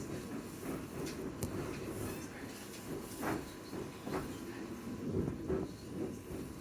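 A London Overground train runs into Liverpool Street with a low, steady rumble and hiss from inside the carriage. Faint wheel clicks and a few soft knocks recur along the way.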